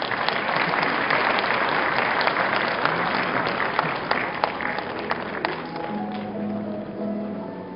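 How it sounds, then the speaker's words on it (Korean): Crowd at a university graduation ceremony applauding in a large hall, a broad, even roar of clapping that slowly thins toward the end as a few sharper claps stand out. "여러분 축하의 박수 부탁드리겠습니다."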